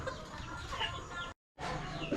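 A mother hen on a Philippine farm clucks softly amid a faint, continuous farmyard background, heard at a moderate distance, with a brief dropout partway through.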